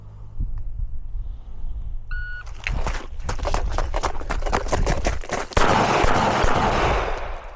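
An STI Staccato Tactical 4.0 pistol fires a fast string of loud shots at a practical shooting range, the cracks coming in quick succession after a short electronic beep, close and sharp with echo between them.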